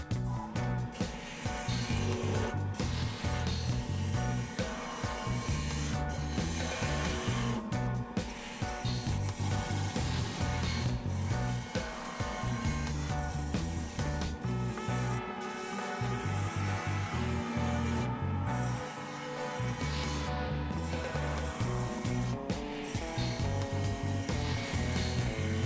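A freshly sharpened turning tool cuts cedar on a wood lathe, giving a continuous, fairly loud whirring and scraping with a rapid pulsing rhythm and brief dropouts, with no talk.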